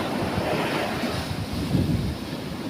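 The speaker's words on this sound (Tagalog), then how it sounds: "Yung tunog ng tubig." Ocean waves roll onto Victorias beach at high tide, a loud, continuous roar of surf mixed with wind rumbling against the microphone.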